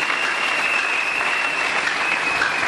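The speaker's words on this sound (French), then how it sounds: "Acclamons très fort pour les voix d'or." Sustained audience applause fills the hall at a church sermon, a dense, steady wash of many hands clapping at even loudness throughout, with no voices rising above it.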